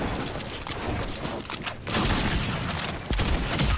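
Bursts of gunfire crackle in a Fortnite match, a rapid fusillade of shots with short pauses between volleys, moderately loud and without talking.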